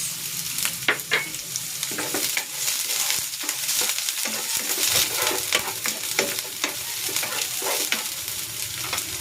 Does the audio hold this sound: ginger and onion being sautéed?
yes